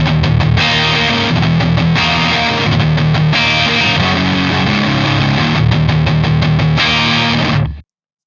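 Distorted electric guitar through an Ecstasy module on the middle pickup position plays loud, dense chugging riffs with brief pauses, then cuts off abruptly at the end.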